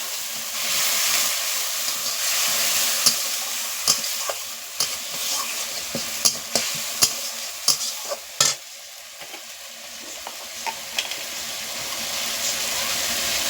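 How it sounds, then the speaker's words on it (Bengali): Masala spice paste of Kashmiri chili powder and red chili fries in oil with a splash of water, hissing and sizzling steadily while a spoon scrapes and stirs in sharp repeated knocks. "অল্প করে একটু জল দিয়ে দিচ্ছি মশলাটা কষানোর জন্য"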